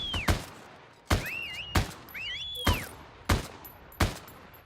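Gunfire in the online shooter Heroes & Generals: six sharp, separate gunshots spaced roughly a second apart ring out close and loud, with whistling ricochet-like tones between some of the shots.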